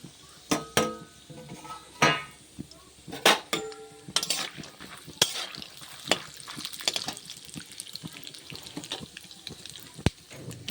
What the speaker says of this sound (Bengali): বাদামটাকে ভেজে নেব